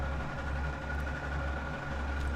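Train engine in the Transport Fever 2 video game, a steady low diesel drone with a faint pulsing throb, close and continuous without talk.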